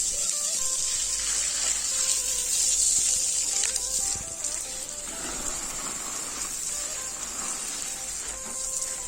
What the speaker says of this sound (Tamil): அதுக்கப்புறம் வந்து தண்ணி தெளித்து விட்டுக்கிறேன்.